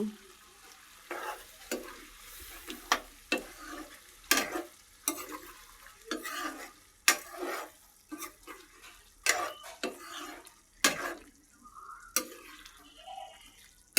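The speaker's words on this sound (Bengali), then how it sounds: "তরকারিটা ভালো করে কষিয়ে নেব" Beef curry being stirred and sautéed in a pan: repeated sharp spoon scrapes and knocks about every half second over a soft, steady sizzle, close and fairly quiet, with no talking.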